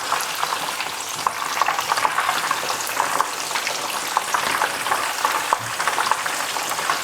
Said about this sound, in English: Now I've had these Scotch eggs cooking for about 10-12 minutes, turning them over nice and regular